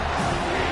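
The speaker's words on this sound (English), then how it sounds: "The crowd elevating its energy, willing this defense to get a stop on this big third down" Stadium crowd at an OSU versus Miami football game, a loud, dense wash of cheering and yelling for a third-down defensive stop, sustained through the short moment.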